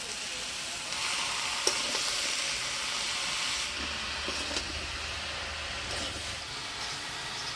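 Bottle gourd with turmeric and salt frying in a pan over a paste of coriander, cumin, ginger and chilli, giving a steady broadband sizzle throughout with a few faint clinks and a low hum joining in later.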